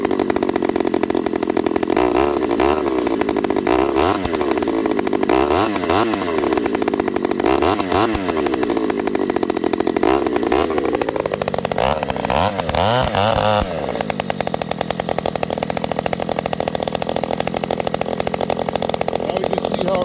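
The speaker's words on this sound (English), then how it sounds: "I noticed this saw kind of likes the fast idle," Ported, piped Homelite 922 chainsaw running at fast idle, a loud, close two-stroke buzz with repeated blips of throttle and a steadier higher pitch near the end, no voices.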